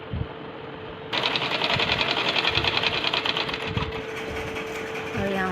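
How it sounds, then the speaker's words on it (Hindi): A sewing machine stitches a suit sleeve, a steady rapid mechanical whirr that starts abruptly after a moment and runs continuously, with a faint hum underneath and a brief shift near the end. "और यहाँ से सिलाई शुरू कर देंगे।"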